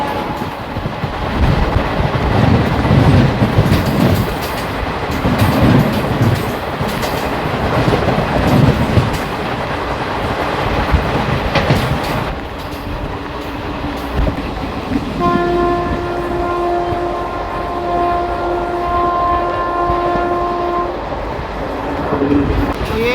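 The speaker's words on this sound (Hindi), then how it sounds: "तो ये थी दोस्तों हमारी उधमपुर एक्सप्रेस जो अभी क्रॉस हुई।" Heard from aboard the Delhi–Fazilka Intercity Express, the Udhampur Express roars past from the opposite direction with loud rattling and clickety-clack, then the noise drops and a sustained train horn sounds for several seconds.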